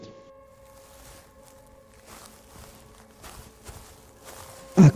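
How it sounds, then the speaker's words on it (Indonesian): Footsteps creep through bushes in a dark horror scene, faint soft crunching steps under a low hum, growing a little louder toward the end before a sudden sharp thump closes the passage. "terdengar suara langkah kaki yang bergerak di semak-semak di sekelilingku"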